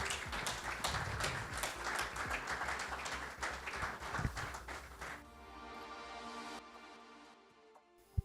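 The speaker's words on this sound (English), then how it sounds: "please give him the applause that he deserves" An audience claps warmly at a book launch in Johannesburg. Dense applause fills the first five seconds, then thins into scattered claps and dies away into near silence.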